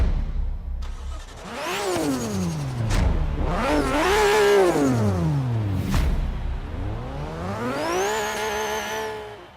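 A Nissan Skyline R32 engine in Forza Horizon 3 revs loudly through repeated rising and falling sweeps, its pitch climbing and dropping as the racing car accelerates and shifts up close, with no voices.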